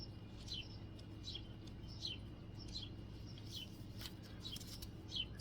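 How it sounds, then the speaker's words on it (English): Small birds chirp repeatedly in short, bright bursts over a low, steady background hum, fairly quiet and spaced a second or so apart. "You can hear the birds chirping here."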